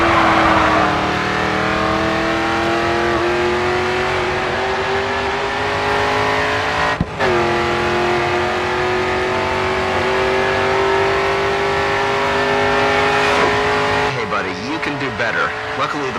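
A race car engine in the GRID 2 racing game roars at full throttle, loud and sustained with steady high-pitched tones that barely shift, briefly dipping once before continuing, with a slight change near the end.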